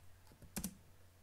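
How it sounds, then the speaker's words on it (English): Computer keyboard keys pressed on a Windows PC while entering a numeric Alt code, heard as a quick pair of close, light clicks in an otherwise quiet room. "And on the keyboard, you want to punch these numbers in"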